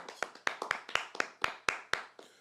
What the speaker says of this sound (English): please clap it up for